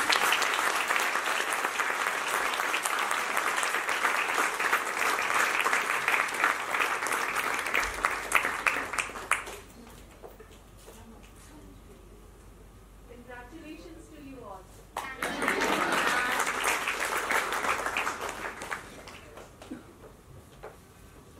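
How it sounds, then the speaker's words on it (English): An audience at a school theatre event applauds the production team of A Midsummer Night's Dream, with loud sustained clapping that breaks off into near quiet and a brief voice, then swells again before fading. "A wide round of applause for the team"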